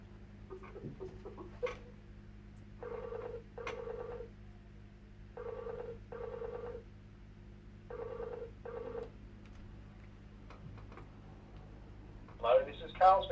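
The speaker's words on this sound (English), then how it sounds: "Let's now call Carl on his office phone." An office phone call being placed on a Konnekt captioning phone: short bursts of a repeating ringback tone, four double rings heard clearly and alone, with faint clicks before and a voice emerging at the end.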